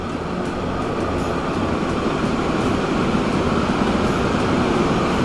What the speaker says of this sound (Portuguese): Lá vem o trem.